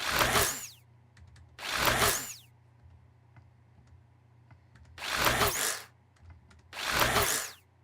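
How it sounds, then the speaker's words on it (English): A synthesized dentist drill sound effect, made for a sci-fi game's sound design, whines in four loud bursts separated by short gaps over a low steady hum. "Dentist drill."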